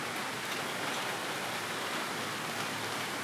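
Steady rain pours down over a small tropical garden in Tahiti, a dense, even hiss of drops on leaves and surfaces that holds constant throughout without any voices.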